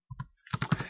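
A few quick keystrokes on a computer keyboard while entering programming code, close and soft, a handful of clicks within one second.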